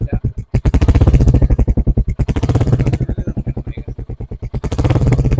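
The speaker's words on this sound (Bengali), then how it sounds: "এই যে একটা সাউন্ড আস্তে আস্তে বাইকটা চালাইলে যে একটা সাউন্ড হয়" Royal Enfield Hunter 350 motorcycle ridden slowly, its single engine giving a loud, close, regular thudding exhaust beat that barely changes pace throughout, with a brief dip near the start.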